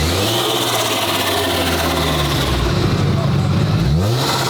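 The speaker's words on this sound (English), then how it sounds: "give me a rev, because this thing ain't stock" A modified, non-stock Lamborghini SVJ engine revs hard, its note climbing and falling in a sustained roar before swelling into another rising rev near the end, loud and close throughout.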